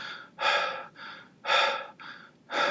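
Rapid, shallow breaths imitating an anxiety attack: three loud, breathy gasping inhales alternating with softer exhales in a quick, steady rhythm, close and alone with no talking.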